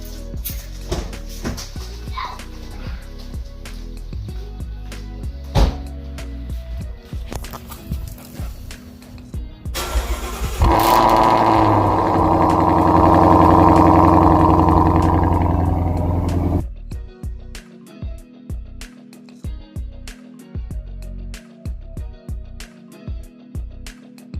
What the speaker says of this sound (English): You want to hear another cold start?